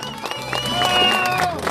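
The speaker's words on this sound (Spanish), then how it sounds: "¡Fuerte el aplauso!" A crowd claps and cheers to welcome arriving cycling pilgrims, brief and fairly loud, mixed with voices.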